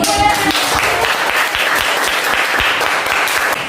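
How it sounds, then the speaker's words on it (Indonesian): Sustained applause from a class, steady and dense clapping that fills the whole stretch without a break. "Tepuk tangan dulu."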